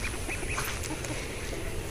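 Ducks quacking in short scattered bursts near a duck and chicken pen at a camp, set against a steady outdoor background hiss.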